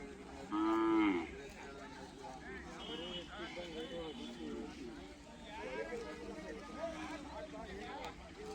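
Cattle and calves moo at a busy cattle fair. One loud, close moo rises early, with fainter lows later beneath people talking and steady crowd murmur.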